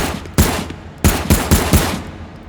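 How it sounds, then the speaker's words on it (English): Five sharp, close gunshots from a firearm in the VR shooting game H3VR ring out in an irregular pattern: one single shot, then a quicker burst of four, each with a short echoing tail. "We can fire off a few shots."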